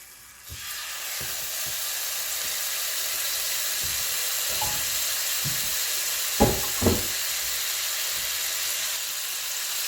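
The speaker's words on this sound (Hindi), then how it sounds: "इस पर मैं रखूंगी चिकन फीले जो कि मैरिनेट करके रखे हुए थे" Marinated chicken fillets laid on a hot grill pan, a loud steady hiss and sizzle rising at once and holding, with faint soft knocks and two brief sharper clatters near the end.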